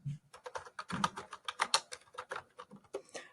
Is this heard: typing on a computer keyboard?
yes